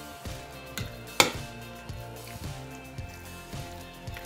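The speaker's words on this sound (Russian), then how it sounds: "Все хорошенько перемешиваем" Batter of sour cream and semolina being stirred in a bowl, a steady run of soft, wet scraping strokes at a regular pace, close and fairly quiet, with one sharper clink partway through.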